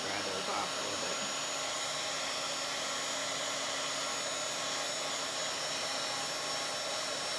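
A hair dryer blows hot air onto wet ink on a Bible journal page, a steady loud broadband whoosh with a constant motor whine that runs unbroken throughout.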